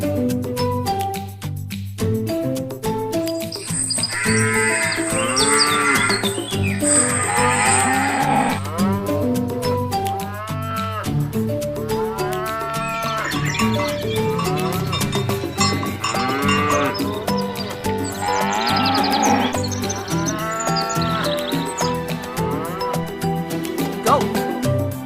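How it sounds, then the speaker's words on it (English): Cattle moo loudly in several long, drawn-out calls, with cowbells clanking steadily in the background over a continuous bed of music. "Cow."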